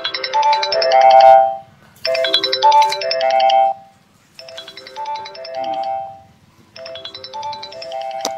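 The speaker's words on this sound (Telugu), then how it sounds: "ఫోన్ అసలు గ్యాప్ లేకుండా అవుతుంది డాడీ." A phone ringtone plays loudly in repeated melodic bursts separated by short pauses, alone without speech, near a farm field.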